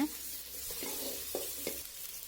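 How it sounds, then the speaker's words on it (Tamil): Small onions sizzle and are stirred in a pan over a wood-fired stove, a steady close hiss broken by a few soft scrapes of the spoon. "சின்ன வெங்காயம் நல்லா வதங்கி வரட்டும் பாருங்கள்"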